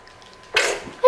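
A small child sneezes once, a short breathy burst standing out from a quiet room, followed by a brief adult voice.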